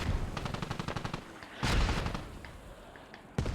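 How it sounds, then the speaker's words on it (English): Mortar fire and rapid gunfire in a large combined-arms battle in Squad, a fast rattling volley followed by a loud booming impact and a later sharp blast, close and intense. "Mortars now dialing in on the HAB."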